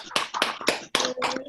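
Short burst of audience clapping at a Kiwanis club installation meeting honoring the outgoing club president, heard as a few loud, uneven bursts of hand claps over about a second and a half.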